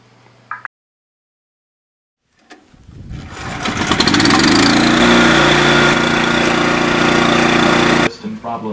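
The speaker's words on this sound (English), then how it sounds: "Tell everyone when the generator comes online." A generator at the Mars Desert Research Station cranks after a brief silence, ramps up and settles into a loud, steady engine drone, then its level drops sharply near the end.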